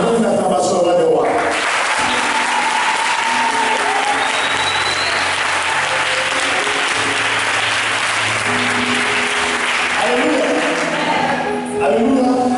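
A church congregation applauds steadily for several seconds during a worship service, dense clapping filling the room, with a voice speaking before and after and low music underneath.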